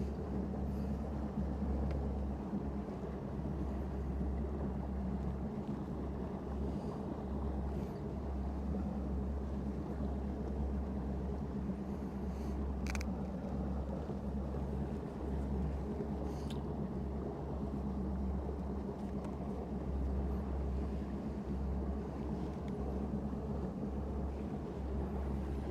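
A boat engine warms up on a calm, flat lake, a steady low rumble that holds unbroken and loud throughout, with no voices over it.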